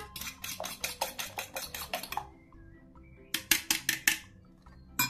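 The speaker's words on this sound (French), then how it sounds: "dans un petit saladier, je bats 4 œufs en omelette" Four eggs whisked in a small mixing bowl, a fork or whisk clicking rapidly against the sides in quick bursts of rhythmic beats, pausing briefly before another fast run; close and alone.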